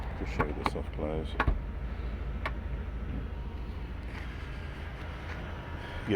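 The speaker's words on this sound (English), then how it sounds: "Just show you the soft close." A Bentley Continental 6.0 W12 GTC Supersport's soft-close door pulling itself shut with an electric whirr and a soft clunk, close up, with a voice briefly over it at the start.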